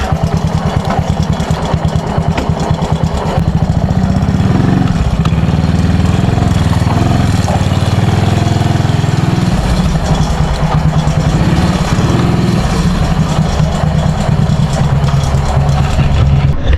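A motorcycle engine running close by, a steady loud rumbling putter that idles and shifts slightly in pitch for the whole stretch, with a faint voice in the background.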